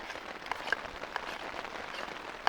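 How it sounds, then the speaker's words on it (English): Rain patters on a tarp outdoors during a bike trip in Scotland, a steady, faint crackling hiss with scattered small drop taps and no voices. "sitting out under your tarp in the pouring rain in the middle of nowhere"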